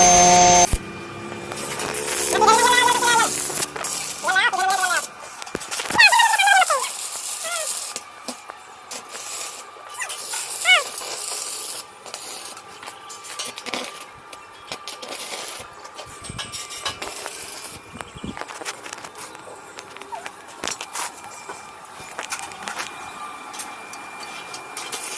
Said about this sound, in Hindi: यहाँ होल 5 की जगह पे कुंडा वेल्डिंग किया जा रहा है